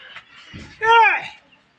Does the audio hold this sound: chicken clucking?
yes